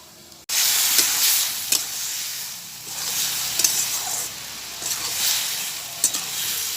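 Vegetables fry in mustard oil for a vegetarian ash gourd dish, with a loud, continuous sizzle close by and occasional stirring scrapes and knocks of a utensil against the pan.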